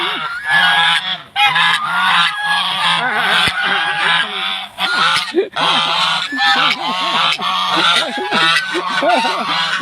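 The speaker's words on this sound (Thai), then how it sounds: "ลูกชายอยากดูห่านครับ" A flock of geese honk loudly and continuously, overlapping calls close by, with a faint voice briefly underneath.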